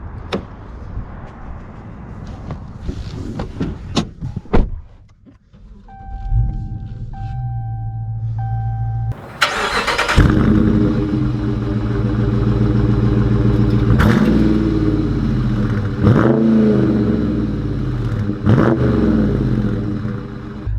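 A Dodge Charger R/T muscle car comes alive: door clunks and interior chimes, then the V8 cranks and catches into a loud, deep idle, followed by several revving surges as it pulls away, close and with no talk.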